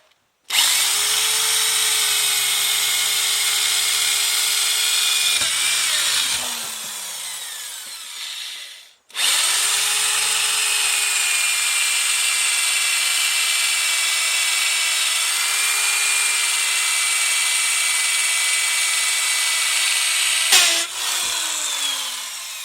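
An electric drill whines loudly and steadily as it bores into hard ash wood for an axe handle, the bit overheating, stopping twice with a winding-down pitch before starting up again.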